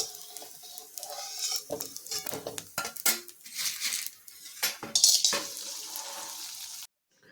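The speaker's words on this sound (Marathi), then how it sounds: "मस्त तळला जातोय" Ingredients frying in ghee for nutritious winter laddus, heard as a busy mix of spoon scraping, metal clinks and light sizzle close by, ending abruptly.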